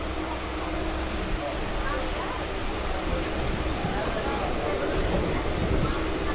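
A Lalgola to Ranaghat local train is under way, giving a steady broadband rumble and rattle from inside the carriage, constant and fairly loud, with some voices in the background.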